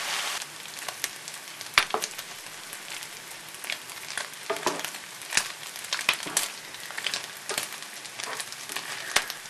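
Pieces of stale bread fry in oil in a pan as a soup garnish, a steady crackling sizzle peppered with sharp pops and spits throughout, close and fairly loud.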